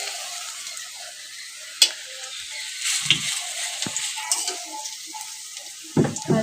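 Onion pakoras (peyaji) frying in a pan beside a kitchen window, a quiet steady sizzle with a few sharp clinks and scrapes of a utensil at intervals.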